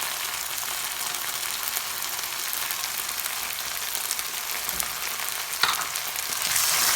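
Cabbage manchurian gravy fries steadily in a pan after chili-garlic sauce and vinegar go in, a continuous close, even sizzle with a brief clink near the end and no talking.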